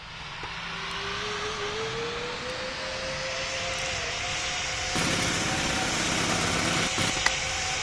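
A Boeing 787 Dreamliner in the PTFS flight game emits a continuous jet engine roar with a slowly rising whine that holds steady throughout. There is no talk.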